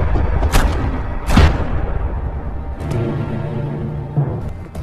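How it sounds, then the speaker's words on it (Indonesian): Gunfire in a crime film scene gives two loud, sharp bangs close together near the start, set against a dense, rumbling dramatic soundtrack. "langsung menembak istri Tony sampai tewas"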